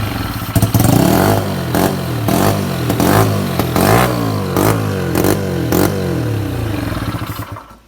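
A 1978 Honda XR75 dirt bike engine runs after a kickstart, its small single-cylinder note blipping and revving with clattery mechanical rattle, close and loud throughout, then cutting off at the end.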